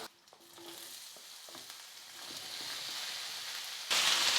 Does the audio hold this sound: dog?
no